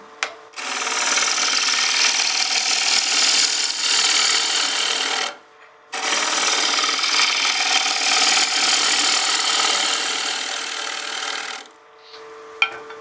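A bowl gouge takes heavy roughing cuts from a wooden bowl blank spinning on a lathe, making a loud, continuous rasping shear. Two long passes run about five seconds each, separated by a short pause.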